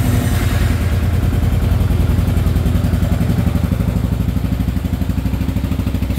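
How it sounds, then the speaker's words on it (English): A Kawasaki KLR 650 motorcycle idles with its stock exhaust, a steady, loud, close single-cylinder thump with a fast even pulse and no talk over it. "You can hear what the stock exhaust sounds like."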